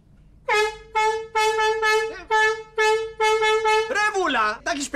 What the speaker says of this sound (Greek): Εσύ θα κρατάς την κόρνα.